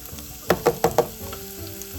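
Chopped onions fry in oil in a pot for an Italian asparagus risotto, a few quick sizzling crackles and scrapes bursting close by in rapid succession, then settling into a quieter hiss.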